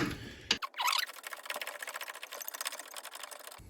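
A 13mm clamp bolt near the battery of a Jeep Patriot 2.0 diesel being undone with a socket wrench and extension bar, giving a fast, close, rhythmic ratcheting buzz that runs steadily for a few seconds after a short clunk.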